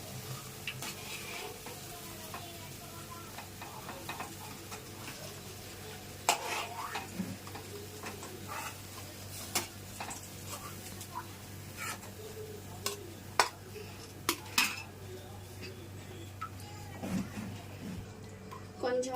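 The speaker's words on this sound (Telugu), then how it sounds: "ఇవన్నీ ఎగిపోయినాయండి, తీసేస్తున్నాం వీటిని కూడా." Amaranth leaf snacks sizzle in hot oil and are lifted out, giving a steady low frying hiss with occasional scrapes and clinks of a utensil against the pan, while a person talks quietly over it.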